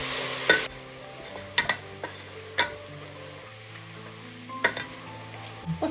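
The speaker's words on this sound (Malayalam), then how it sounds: "മീഡിയം ഫ്ലെയിമിൽ വെച്ചിട്ട് സവാള ഒന്ന് ഫ്രൈ ചെയ്ത്." Sliced onions frying in oil over a medium flame for chicken biryani: a steady sizzle with scattered sharp clicks and scrapes of a spoon stirring the pan, close and fairly quiet, with no talking.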